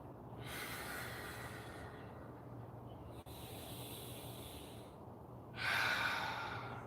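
Slow, deep breaths in and out during a yoga flow, long airy inhales and exhales close to the mic, with a louder, stronger breath near the end.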